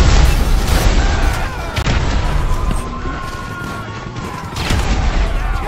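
Repeated grenade blasts and gunfire in the video game GTA V, heavy booming bursts recurring about every second amid a constant loud chaotic din.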